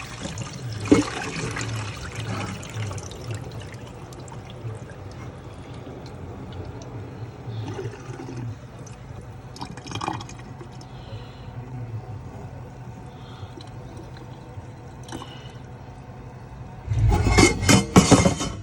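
Rice being rinsed under running kitchen water, a continuous trickle and splash with occasional sloshing, ending in a louder gush of pouring water.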